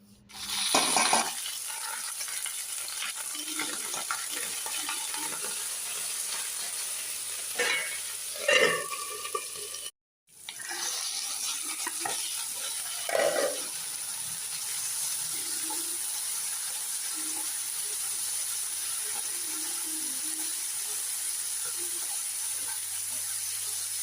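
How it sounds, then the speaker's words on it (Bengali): Curry leaves and mustard seeds crackle and sizzle in hot mustard oil, with a steady hiss running throughout, a few louder spits and stirring clatters, and one brief break in the sound. "এই যে কারি পাতা, তার মানে নরসিংহের পাতা একটু দিয়ে দিলাম তেলে ফোড়ন হিসেবে, আর সরিষা দিয়ে দিলাম।"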